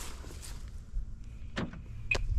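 The passive-locking door handle on an Audi A4 rental car unlocks with two quick, close mechanical clicks over a faint low hum.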